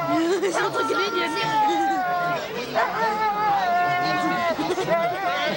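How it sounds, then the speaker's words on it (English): At a dog sled race, a sled dog yips and howls amid excited voices, the barking and wavering calls mixing with chatter throughout. "It's a dog."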